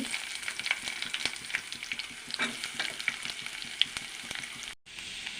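Onions fry in a tempering of oil and chana dal, crackling with a busy, continuous close sizzle and frequent light stirring clicks, broken by a brief dropout near the end.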